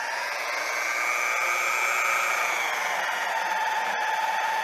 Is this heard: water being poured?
no